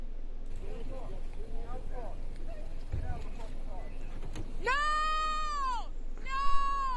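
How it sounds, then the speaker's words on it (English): Talk runs for a few seconds, then a sheep bleats loudly nearby twice, long wavering cries with a short gap between. "Sheep!"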